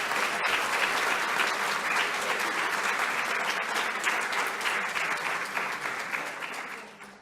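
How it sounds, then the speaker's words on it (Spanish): An audience at a community talk for World Stroke Day breaks into dense, sustained applause that holds steady for several seconds, then tapers off at the end. "les pido un aplauso también para Máximo"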